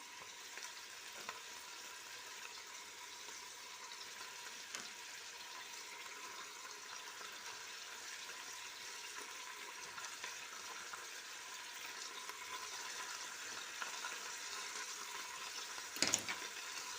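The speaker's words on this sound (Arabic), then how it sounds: "خلوه شويه هكا يتقلى معنا البصل" Onions frying in a pan alongside chicken and garlic cloves, giving a steady soft sizzle that holds faint and even throughout, with a brief louder clatter near the end.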